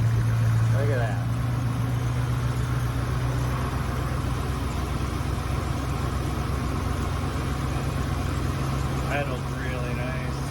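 A 1979 Dodge D100 Stepside truck engine with a rebuilt Edelbrock 1406 carburetor idles at about 750 RPM, a steady low rumble running throughout, with some speech over it.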